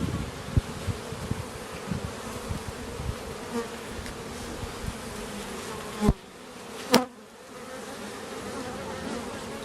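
Honey bees buzz in a dense, steady drone throughout an open beehive inspection, with a few louder knocks or bumps near the end and no talking.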